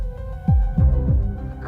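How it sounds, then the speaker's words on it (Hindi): A heartbeat sound effect in a horror show: deep, close, booming thumps in a steady rhythm, about four beats, heard alone. "उसके दिल की धड़कन फिर से शुरू होगी या नहीं।"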